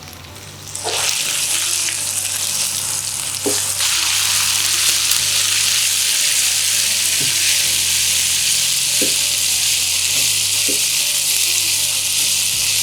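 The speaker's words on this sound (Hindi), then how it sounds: "हे अची वियूं गरम ऑयल में। भिंडियुनि खे कंदासीं फ्राई।" Okra and tomatoes drop into hot oil in a pan, the frying jumping to a loud, steady hiss and sizzle that holds throughout, with a few faint knocks and no talking.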